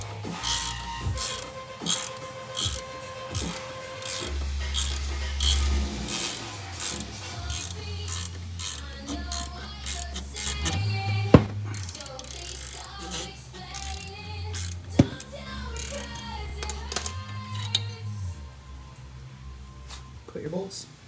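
A Matco flex-head 12mm ratchet loosening bolts during a Subaru Forester CV axle swap, rapid close clicking in several runs, heard under someone talking and other tool noise.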